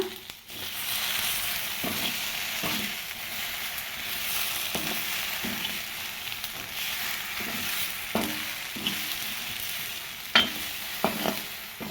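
Okra dry-roasting in a pan without oil, a steady soft sizzle with recurring stirring scrapes and clacks of the spoon, close up and without talking.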